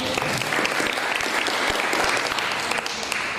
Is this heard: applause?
yes